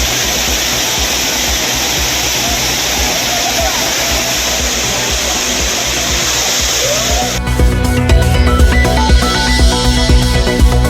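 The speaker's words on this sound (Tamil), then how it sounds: "விடுமுறை தினம் என்பதால் குற்றால அருவிகளில் அலைமோதும் கூட்டம்" The crowded Courtallam main waterfall gives a steady, loud roar of falling water, broad and unbroken throughout, with music coming in over it near the end.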